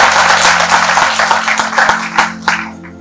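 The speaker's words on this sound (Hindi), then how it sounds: "जोरदार तालियों से उनका स्वागत करें" A seminar audience claps to welcome an IPS officer onto the stage. The applause is loud at first over a steady background hum, then breaks into a few separate claps and fades out.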